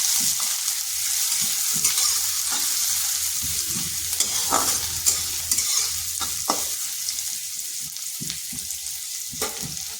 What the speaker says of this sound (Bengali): পেঁয়াজটাকে হালকা একটু ভেজে নিচ্ছি।